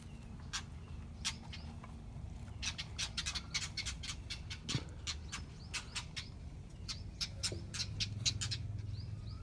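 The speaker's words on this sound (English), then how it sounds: "The birds are voicing the danger over there." Garden birds giving alarm calls near a nest, sharp repeated chirps and squawks in irregular bursts over a low background rumble, fairly close, with no talking.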